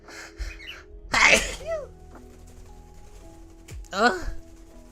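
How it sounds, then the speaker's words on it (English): Two sharp sneezes a few seconds apart, close and loud, with faint chirps from pet birds indoors and a quiet hum in the background. "I sneezed."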